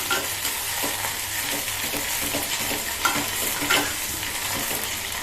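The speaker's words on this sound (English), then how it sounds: "They are 8 to 10 garlic pieces which I have sliced small, and I am going to roast them for 2 to 3 minutes" Sliced garlic roasts in a pan over a medium flame, giving a continuous, even sizzle with occasional soft stirring scrapes and small pops, close and steady throughout.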